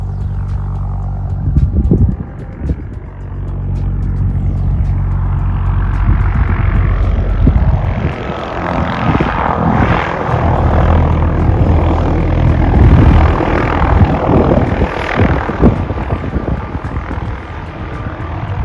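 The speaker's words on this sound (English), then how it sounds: "Helicopter just coming in the hill there." A helicopter's rotor thumps and engine roar build steadily as it approaches, loud and continuous with no talking.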